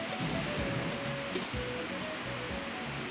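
Water gushes and rushes steadily in Banjo-Kazooie as a level is emptied, a continuous broad wash with low rumbling surges and game music tones running throughout.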